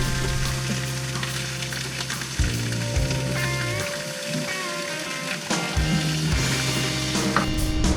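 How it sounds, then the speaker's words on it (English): Honey-glazed food coated with sesame seeds sears in a hot skillet, giving a steady, close sizzle and crackle that runs throughout, with music playing alongside. "a quick sear in a hot skillet"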